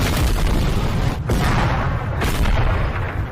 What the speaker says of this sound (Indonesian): tiba-tiba sebuah tembakan tank mengejutkan mereka